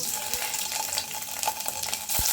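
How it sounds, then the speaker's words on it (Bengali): Paneer pieces sizzle in hot white oil, a steady close crackle and hiss that continues evenly with small pops throughout. "আমার তেল গরম হয়ে গেছে এবারে পনিরগুলো আমি একটু ভেজে নেব"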